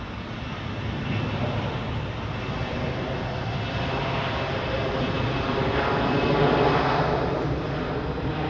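An aircraft takes off from runway 28 at Zurich Airport, its engine roar building from moderate to louder and rumbling steadily at a distance, with faint talk underneath.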